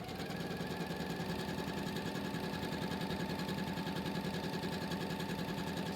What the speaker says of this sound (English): now I'm going to sew again